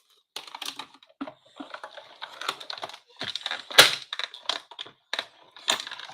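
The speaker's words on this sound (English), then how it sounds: "I'm going to cut out some of these leaves." Scissors cutting paper leaf shapes for a stamped greeting card, a string of close, crisp snips and clicks at an uneven pace, no talking over them.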